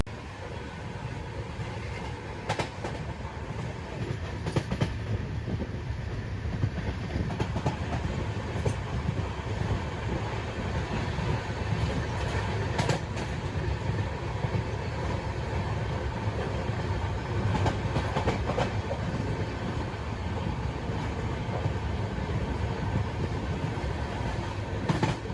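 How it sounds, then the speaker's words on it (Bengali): Darjeeling Mail passenger train running on rails toward New Jalpaiguri, a steady loud rumble of wheels with periodic clicks and clacks throughout, heard from inside the coach with no talk. "তো আমাদের ট্রেন এখন এনজেপি ঢুকছে"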